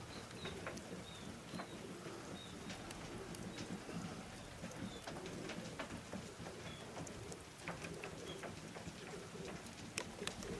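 Racing pigeons in the first minutes of a training flight, with soft cooing and bird sounds heard over a dense, steady patter like rain on a surface that continues the whole time.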